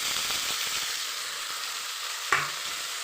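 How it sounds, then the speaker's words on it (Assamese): Chilies frying in a pan for semolina pulao make a steady, close sizzle with continuous hiss, broken by one brief clatter near the end. "অলপ ফ্ৰাই কৰি ল'ম।"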